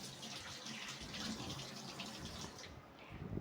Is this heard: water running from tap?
yes